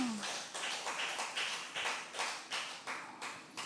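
A church congregation at a Friday worship service in Busan claps together in a steady, even rhythm of quick, close claps that continues throughout.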